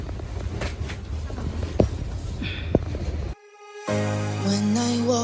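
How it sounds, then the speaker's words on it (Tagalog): An express train in Seoul rolls past with a steady mechanical rumble and a couple of sharp clanks, fairly close, before cutting abruptly to a different sound. "express train"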